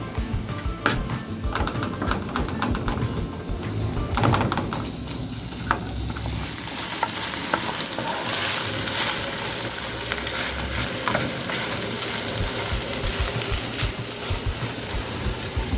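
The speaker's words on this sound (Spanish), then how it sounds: "lo que hacemos es empezar a revolver para que se mezcle la carne con la cebolla" Ground meat and onion sofrito sizzle steadily in a pan while being stirred, with scraping and clinking utensil strokes early on, close and continuous, no talk.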